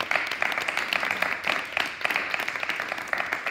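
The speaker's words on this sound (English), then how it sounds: "applause" Audience applause at a school leavers' Mass, a dense steady round of clapping from a crowd that keeps an even level for several seconds in a reverberant hall.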